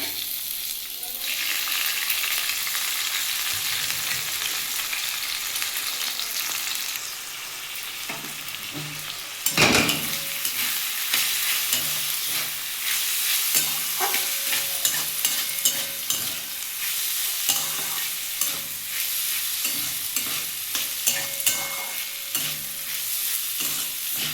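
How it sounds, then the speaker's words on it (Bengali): Moong dal, already dry-roasted, fries in ghee in a pan for a sweet payesh, giving a steady soft sizzle with repeated scraping stir strokes and one sharp clatter partway through, no talking. "এবার ডালটা একটু ঘিয়ে ভেজে নেবো"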